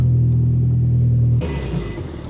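A Mitsubishi Evo 8 idles with a steady low drone close by, then the tone shifts abruptly to a rougher, fluctuating rumble as the car pulls out of the shop, with no talk.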